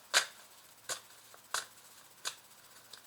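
Playing cards handled and drawn during a French tarot-style reading: four or five crisp, close snapping flicks spaced about half a second apart, each a short sharp burst over a quiet background, with no talking.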